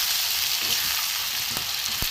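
Vegetables and spices sauté in a hot pan with a steady close sizzle and a few sharp scrapes of stirring, no talking.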